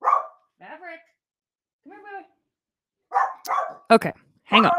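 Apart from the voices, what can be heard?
dog barking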